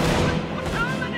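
Battlefield gunfire and artillery from the Company of Heroes World War II strategy game, a dense continuous rumble of shots and booms with voices over it.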